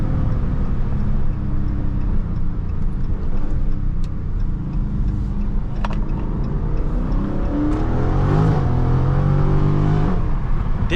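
A Dodge Charger Scat Pack widebody accelerates from inside the cabin, a loud, steady low engine roar building with a rising tone near the end, with no talk over it.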